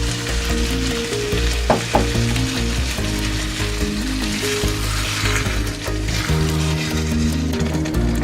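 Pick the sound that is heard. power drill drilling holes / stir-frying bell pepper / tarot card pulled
stir-frying bell pepper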